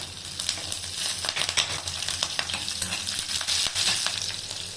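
Curry leaves and green chilies crackle and fry in hot oil in a pan, a dense sizzling with sharp popping bursts and occasional stirring scrapes, close and loud.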